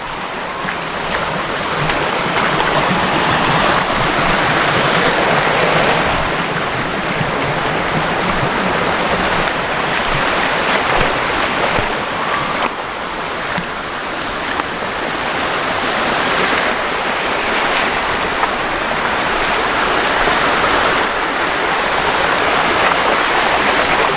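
Steady rushing water of a flowing stream, continuous and fairly loud throughout with no voices.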